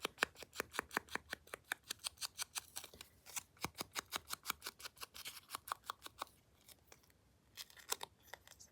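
Scissors snip through paper for a handmade card craft project in a fast, even run of crisp cuts. A brief pause comes before a few final snips. The cutting is close and quiet, with no speech.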